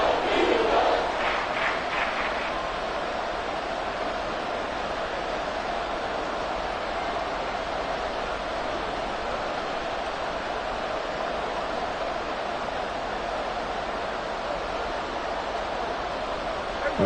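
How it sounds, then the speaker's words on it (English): A football stadium crowd roars as a steady, broad wash of noise that carries through the whole stretch, with a slightly louder swell at the start. "This crowd doing all they can."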